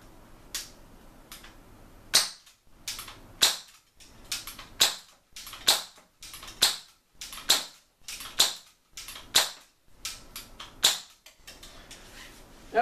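About a dozen sharp, snappy shots from a Tokyo Marui MK23 airsoft pistol ring out indoors at an uneven pace, each with a brief crack and short room echo.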